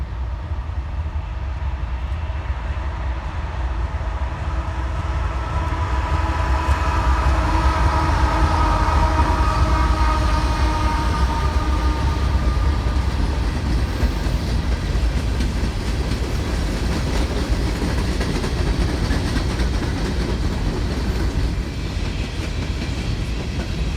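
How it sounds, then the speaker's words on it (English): Norfolk Southern NS591, an empty coal train from Baltimore bound for Shire Oaks, Pennsylvania, rumbles past on the Pittsburgh Line at Cresson, a loud sustained roar of wheels with rhythmic clickety-clack and squealing tones over deep low rumble throughout. "Next up is NS591, an empty coal train from Baltimore, Maryland, heading to Shire Oaks, Pennsylvania."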